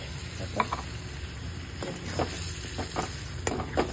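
Boiled spinach paste for palak paneer stirred in a hot pan, with a continuous gentle sizzle broken by repeated scraping strokes of the spoon.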